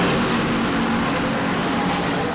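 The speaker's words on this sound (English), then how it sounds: "The cars obviously are very loud, but this is exciting." Race cars at the Watkins Glen track during a NASCAR K&N Series event, a loud continuous engine roar with a droning tone, steady and close across the short stretch with no talk over it.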